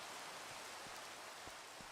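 Steady rain in the Minecraft GTNH modpack, a constant broadband hiss with a few faint drip-like taps, heard alone at low level with no talking.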